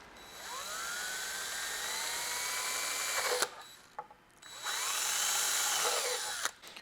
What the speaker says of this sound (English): So we're going to go ahead and drill all of those spots out.